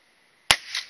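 A single sharp gunshot rings out at outdoor field sports target shooting in North Wales, a loud crack after silence followed by a decaying echo across the open ground.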